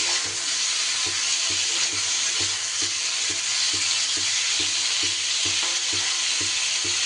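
Ridge gourd and mixed vegetables sizzle steadily in a pan while a spatula scrapes and stirs in regular, rhythmic strokes about twice a second.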